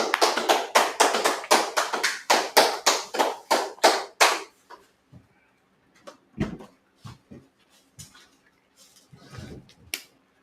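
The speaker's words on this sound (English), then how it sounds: "Clap that up" An audience claps in a brisk, steady run of loud, even claps for about four seconds, then drops to a few scattered claps and taps amid near silence.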